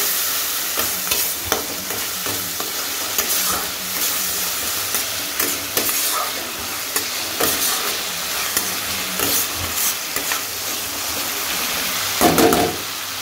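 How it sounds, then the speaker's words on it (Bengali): Spice masala frying in hot oil in a pan for fried rice, a steady close sizzle under repeated scraping stirs, rising to a louder burst near the end, with no voices. "দিয়ে একটু ভালো করে নেড়ে নেব"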